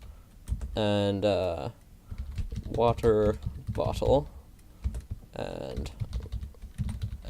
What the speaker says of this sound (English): Sorry, I'm typing slowly. I have to reach over my mic to reach the keyboard